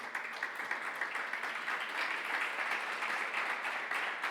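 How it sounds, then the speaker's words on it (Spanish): A congregation at a Sunday church service applauds steadily, a dense and moderately distant wash of clapping that holds evenly for several seconds. "Dele un aplauso al Señor."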